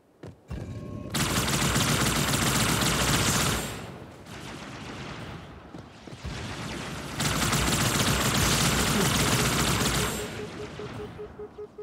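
Bursts of rapid gunfire from the video game Halo 2 Anniversary, two long dense volleys of automatic fire separated by a quieter stretch, loud and close with no talk over it.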